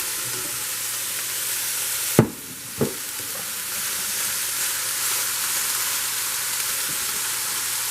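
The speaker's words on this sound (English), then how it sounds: "Once you have placed these peppers in the frying pan, you want to leave them" Steady hiss of bell peppers frying in hot oil in a pan, continuous sizzling with a couple of sharp clanks from a utensil or pan early on.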